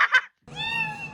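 A black kitten gives two quick, high meows, then after a short pause a longer, drawn-out wavering meow, close and clear.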